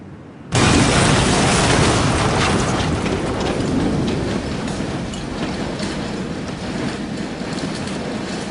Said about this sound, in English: I'm charging. My system's armed. Ready? Yeah, ready